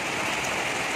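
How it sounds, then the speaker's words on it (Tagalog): Heavy rain pours down in Baguio City, heard as a dense, steady hiss of falling water that fills the whole second without a break. "Lakas ng ulan."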